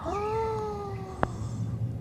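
A cat meows once in a long, drawn-out wail that bends downward, heard over steady background noise from a French lesson cartoon, with a sharp click partway through.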